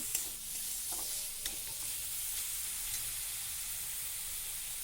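Leafy greens stirred in a hot pan, a steady sizzle with a few sharp scrapes and taps of the spatula near the start, then an even hiss, close by and without speech.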